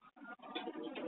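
Pigeons cooing in a loft during breeding setup, a short low throaty coo with brief pauses, close and soft with no talk.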